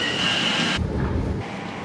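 A train heading into London rumbles loudly and close by, a steady broadband roar that shifts abruptly in tone partway through as the carriage moves along the track.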